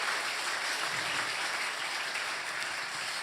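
Church congregation applauds during a sermon, dense, steady clapping heard throughout at an even level.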